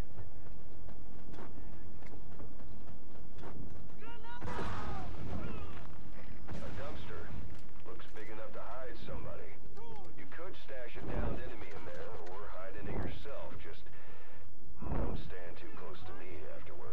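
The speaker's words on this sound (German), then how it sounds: "da musst du eine Granate reinschmeißen." Loud explosions and gunfire in the video game Metal Gear Solid V, several heavy blasts bursting through sustained combat noise while a voice talks over the action.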